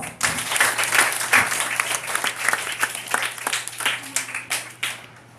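A school debate audience breaks into lively applause for a judge, many hands clapping in a full, crisp burst that gradually thins into scattered claps, with a faint steady hum beneath.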